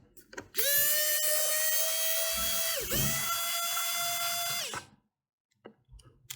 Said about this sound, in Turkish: Hemen buradaki vidaları sökelim.